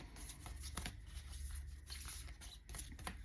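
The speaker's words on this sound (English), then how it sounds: "Today I'm just going to shuffle, and whatever comes out, and we'll read them" Tarot cards being shuffled by hand, a quick run of soft riffling and papery flicks repeating close and quiet.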